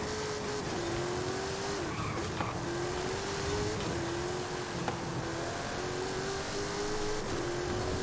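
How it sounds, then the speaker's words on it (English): A modified DeLorean DMC-12 with a twin-turbo V8 in Forza Horizon 5 accelerates hard, its engine droning loud and steady with rising pitch sweeps at each gear shift and faint tire noise throughout; no talking. "This car just accelerates."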